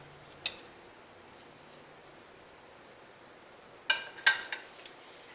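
Baked rice pudding is served onto a plate: one faint clink early on, then a short cluster of utensil and dish clatter near the end after quiet.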